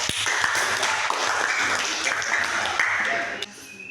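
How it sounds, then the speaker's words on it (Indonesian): Students in a classroom clap for a group after its presentation, giving a brisk burst of close, crisp hand claps that stops abruptly near the end. "Ya, tepuk tangan dari kelompok"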